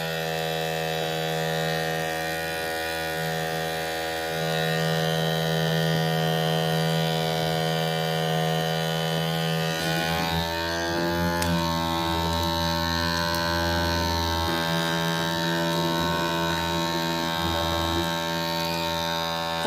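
A vacuum pump runs steadily while evacuating a 3D-printed cup, making a constant electric hum with strong harmonic tones. Its pitch and texture shift partway through as the pressure changes, and a few faint handling noises are heard.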